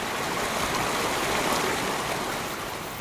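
The Drance de Ferret, a mountain torrent in Switzerland's Val Ferret that carries heavy loads of sediment, rushes in a dense, steady roar of white-water noise, close and continuous with no voices.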